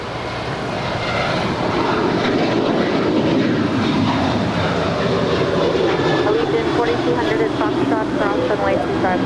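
An Alaska Airlines jet takes off from runway 25 right at LAX, its engines a loud, steady broadband roar that holds for the whole stretch, with a radio voice talking over it.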